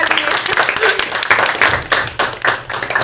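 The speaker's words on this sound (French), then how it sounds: "Ouais, on va applaudir." A studio audience at a French television quiz show claps steadily, loud and close, in a continuous burst of applause.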